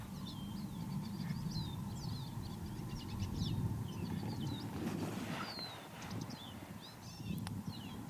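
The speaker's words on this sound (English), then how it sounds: "Listen to the birds." Birds chirp and twitter at a distance near a mountain or mesa, over a low rumble of outdoor background noise, with no voices present.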